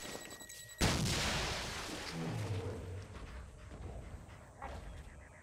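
Explosions from bombs in the video game Gigantic, played on Xbox One: a sudden loud blast followed by a long rumbling decay, with further muffled booms and game noise behind.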